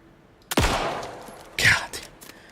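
Gunfire in the video game Alan Wake 2: a loud, close shot followed by a second sharp report about a second later, with faint clatter trailing after.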